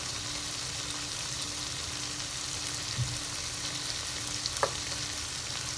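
Bitter gourd (ampalaya) for a shrimp and egg dish fries in a hot pan with a steady, dense sizzle that holds at an even level throughout, broken by one faint knock near the end.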